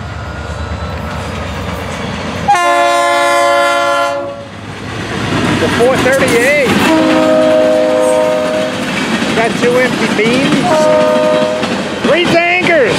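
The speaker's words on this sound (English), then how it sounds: "Look at this train." A Florida East Coast freight train rumbles past with wheels clattering on the rails, blasting its multi-tone horn loudly and repeatedly in long and short blasts over the steady roar of the passing cars.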